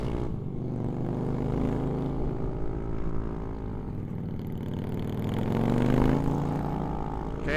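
A motorcycle engine held at full throttle on a touring ride through Ciletuh, a continuous loud droning roar with rising and falling pitch and steady wind rush, no voices.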